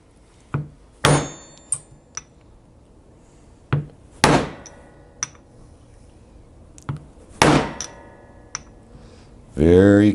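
A socket is used to tap a seal into a Harley-Davidson Shovelhead oil pump, giving a series of sharp, close metallic knocks spaced irregularly, some single and some in quick pairs, with quiet pauses between.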